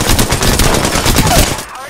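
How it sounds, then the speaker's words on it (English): Rapid automatic gunfire in the battle-royale game Apex Legends, a dense, loud burst of shots rattling without pause for nearly two seconds before tailing off. "Shooting. Reloading. Getting shot at."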